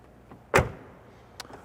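A car door on a red 2014 Dodge Viper swings open with a single sharp, close thunk, then a faint click about a second later in a quiet setting.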